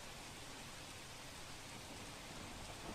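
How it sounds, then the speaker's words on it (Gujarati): Unseasonal rain falls over the interior villages of Dharampur in Valsad district, Gujarat, making a steady, dense hiss that stays even and close throughout, with no voices. "સ્વાભાવિક રીતે ધરમપુરના અંતરિયાળ ગામોમાં પણ વરસાદ વરસ્યો છે"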